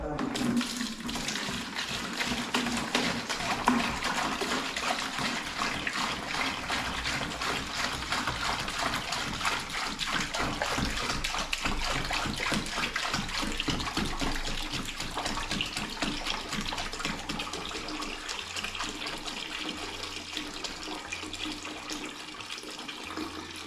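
Clean water runs steadily while an airless paint sprayer is rinsed out, a continuous splashing, gushing flow like a running tap that stays constant and fairly loud throughout.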